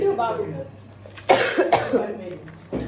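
A person coughs several times in quick, harsh bursts, close by, with a quieter stretch of murmuring before the coughing starts.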